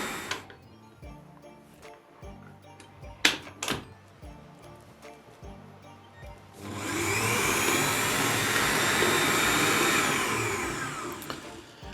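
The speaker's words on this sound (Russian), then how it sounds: "не стесняйтесь периодически останавливать миксер и хорошенько зачищать стенки и насадку" An electric mixer whipping chocolate cream for a Prague cake, with quiet taps and scrapes at first, then the motor starting and running as a loud, steady whir for the final several seconds.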